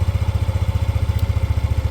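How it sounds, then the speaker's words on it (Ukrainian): A Yamaha Nmax 125 scooter engine idles close by, a steady, even low-pitched putter with regular pulses and no voices. "Двигун працює ідеально"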